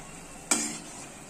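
A single quick spoon scrape through thickening chicken chilli sauce in a pan, followed by a soft fading sizzle, close and quiet with no voices.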